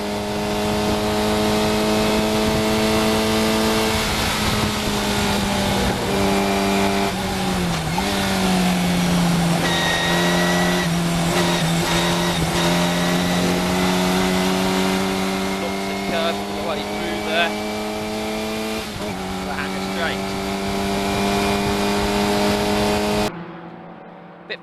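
Historic Formula Ford 2000 race cars at Silverstone, heading toward Copse Corner: a loud, sustained engine roar held close throughout, pitch dipping briefly and rising again as the cars pass, with commentary talk over it before it cuts off abruptly.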